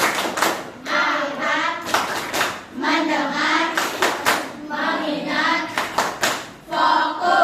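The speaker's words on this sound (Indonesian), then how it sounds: "Sekarang tepuk fokus." Schoolchildren perform a rhythmic focus clap, sharp patterned claps in quick bursts alternating with their chanting voices, loud and close in a classroom.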